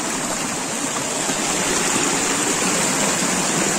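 Cold spring water flows out from inside the mountains in rural Uttarakhand, a steady, close, full rushing stream that holds even and unbroken from start to finish with no voices over it.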